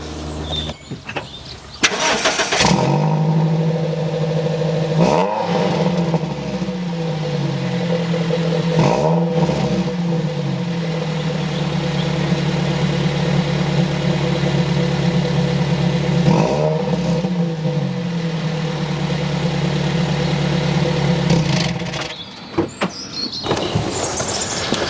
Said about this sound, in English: we'll just do a quick sample of the old exhaust note.